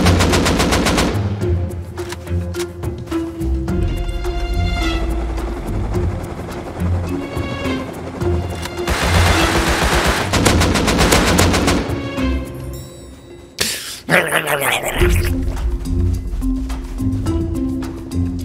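Dense, sustained automatic gunfire from the Rust survival video game, with rapid overlapping bursts of shots filling nearly the whole stretch, loud and close, with only a brief lull near the end.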